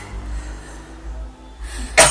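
Quiet room noise, then a single sharp, loud cough from a woman bursts out near the end, in a nail salon.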